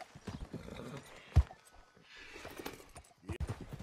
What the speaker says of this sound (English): That's some of the best horses you can get.